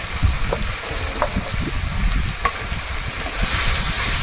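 Chili powder sizzles in a hot pan while being stirred, a steady crackling hiss broken by scraping spoon strokes and soft knocks, close and without voices.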